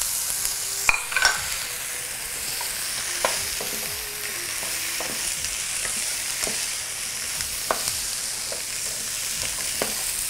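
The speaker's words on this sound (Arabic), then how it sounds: "We'll saute for a minute or so." Potato pieces sauté with onion, oil, spices, curry and dried lime for a potato curry stew, giving a soft continuous sizzle broken by scattered spoon scrapes and clicks against the pan, close and moderately quiet, with no voices.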